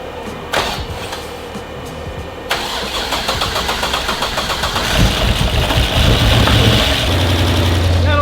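An LS3-swapped Nissan 350z cranks and fires up, with the starter whirring before the V8 catches and settles into a loud, throbbing idle up close, with a background voice briefly present.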